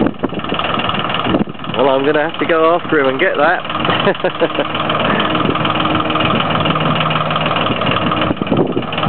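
A tractor engine runs at a steady idle-like drone on a farm while someone talks over it, the motor continuing alone after he stops.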